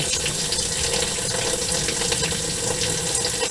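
Water gushes steadily from a wide-open faucet fed by a Vevor 8 kW tankless water heater, a loud continuous broadband rush with no pauses and no voices.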